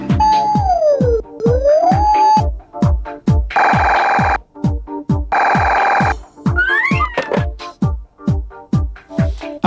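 A telephone ringtone plays loudly in an Iranian TV comedy series, a repeating electronic melody with sweeping tones and bursts of bright ringing, continuous over a steady beat.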